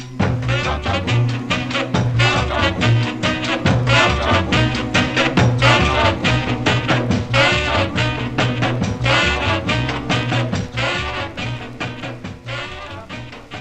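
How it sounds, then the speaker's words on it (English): The 1955 doo-wop record "Chop Chop Boom" by Al Smith and the Savoys plays loud and steady, with group vocals over a driving backbeat throughout. "That's the sound of Al Smith and the Savoys from January 1955."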